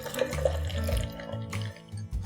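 Water being poured into a mango and pineapple panha concentrate, a steady close splashing and trickling stream that lasts about two seconds with no talking.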